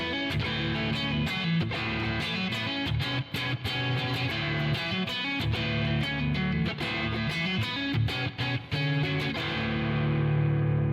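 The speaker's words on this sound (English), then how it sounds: "And then if I put it on the neck pickup, it sounds like this." A Telecaster electric guitar on its neck pickup, with distortion and a compressor, plays a sustained, loud riff of thick overdriven chords with steady picked rhythm for about eleven seconds. No one talks over it.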